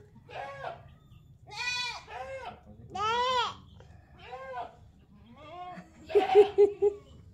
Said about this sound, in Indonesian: gimana suaranya eh, eh, ini kambingnya ya